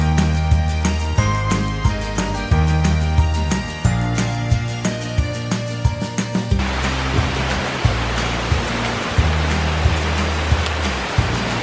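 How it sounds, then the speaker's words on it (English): A waterfall on the Appalachian Trail at Mt. Tammany roars as a dense, constant rush that fills the second half, while rhythmic background music with a steady beat plays throughout. "I found a beautiful waterfall."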